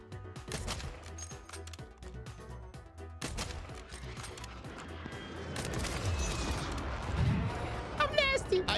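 Shotgun blasts ring out in a first-person shooter, a few sharp booming shots spaced early on, followed by busier mixed gunfire and game effects, with a player talking over the action.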